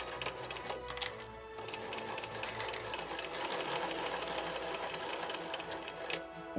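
A sewing machine runs in a fast, steady mechanical rattle, back stitching while embroidering a Christmas stocking. The close stitching continues without pause over several seconds.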